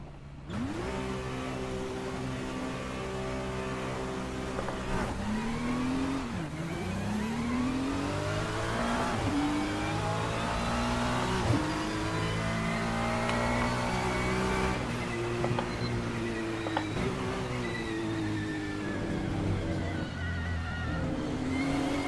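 Race car engine in Le Mans Ultimate at the Qatar circuit, revving hard and continuously with rising and falling pitch through repeated gear shifts, loud and close with no talking.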